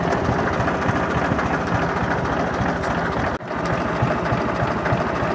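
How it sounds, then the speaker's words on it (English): Minneapolis-Moline M670 tractor running on LP gas, its engine at low idle around 400–550 RPM, chugs in a steady, loud, close rhythm with a brief dip partway through and no talking. "There's her low idle."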